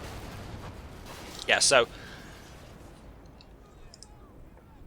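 A single cannon shot in a snowy wartime combat video game, a short sharp blast rising above a quiet background hiss, with someone talking briefly nearby.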